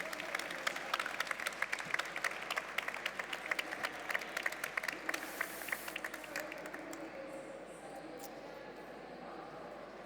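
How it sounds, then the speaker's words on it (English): An audience at an online education session about learning from nature applauds a departing guest: crisp, scattered clapping from a small crowd that thins out and fades away after several seconds into quiet room tone. "So please give him a big round of applause."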